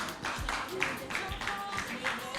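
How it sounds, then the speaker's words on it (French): Audience at a holiday-camp competition semi-final clapping for a team, a scattered, fairly faint round of claps with some voices mixed in. "qu'on applaudit très très fort"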